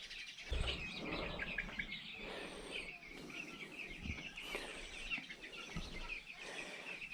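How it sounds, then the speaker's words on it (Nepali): Several chickens cluck and chirp close by in a continuous chatter, with occasional louder calls and soft thumps. "कुखुराहरू"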